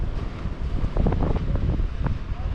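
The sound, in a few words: strong sea waves and wind hitting a boat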